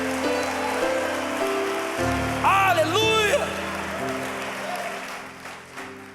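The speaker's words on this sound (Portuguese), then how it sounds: "então aplauda Ele o mais alto que você puder" A church congregation at a Wednesday evangelical service applauds loudly. The crackling, rain-like clapping continues over sustained worship music, and a voice shouts out in the middle.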